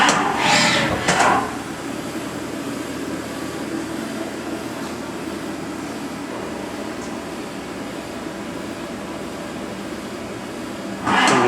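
A Haas VF3 30 HP CNC machining center rigid tapping, a steady mechanical hum throughout with brief louder whooshing bursts at the start and end, no voices.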